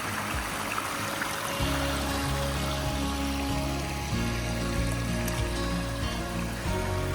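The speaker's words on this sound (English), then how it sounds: "So just increased that flow over this waterfall pretty significantly." Water pours steadily over a backyard waterfall, a close, continuous rushing and splashing, joined partway through by a low tonal hum from the surrounding setup.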